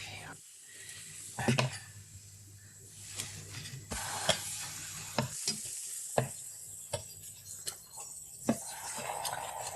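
Food for a homemade croque McDo sizzles and is stirred in a hot frying pan. A soft, steady frying hiss runs throughout, broken by sharp ticks and scrapes at irregular intervals.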